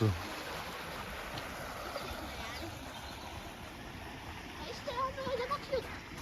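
Fast-flowing stream water rushing steadily at a village crossing, a constant broadband wash heard from nearby, with a few faint voices and a brief louder burst near the end.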